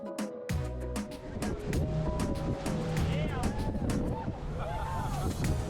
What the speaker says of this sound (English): we walked over to this 24-foot raft and we headed out of the marina and caught some waves on the way out